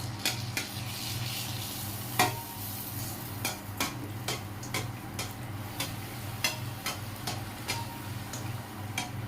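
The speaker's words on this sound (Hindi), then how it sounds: "देखिए इस तरह से हम डाल जाएंगे और तेल को इस तरह से हिलाते जाएंगे।" Pani puri dough frying in hot oil while the oil is stirred: a low steady sizzle runs under repeated light ticks and clicks of a utensil against the pan at an uneven pace.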